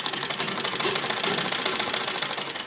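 A sewing machine stitching a pleated frock runs in a fast, even, rapid-fire chatter of needle strokes, close and steady for the whole moment, with no voices.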